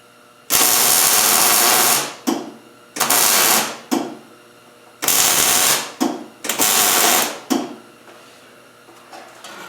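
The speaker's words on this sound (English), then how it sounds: "at about the same place I tack weld the second one" Tack welding sheet metal rose petals, a series of about six loud hissing welding bursts, some long and some short, separated by brief quiet gaps with no talking.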